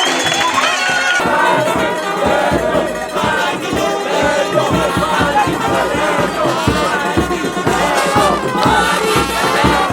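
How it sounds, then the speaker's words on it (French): A large crowd at a political rally in Lualaba roars with cheers, shouts and clapping, loud and continuous, with a dense hubbub of voices throughout. "Ce mot d'ordre qui sera obéi dans le coin et recoin du Lualaba a été suivi des applaudissements, cris de joie et pas des danses de la foule."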